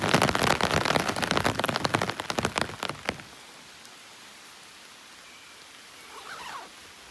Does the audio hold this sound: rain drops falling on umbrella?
yes